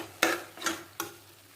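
Vegetables with masala powder being sautéed in a pan for kovakkai rice, heard as three soft, separate stirring scrapes with a brief sizzle on each, spaced evenly and fairly quiet.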